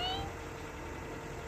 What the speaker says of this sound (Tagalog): Ang gandang pusa, mahal itong pusa na to.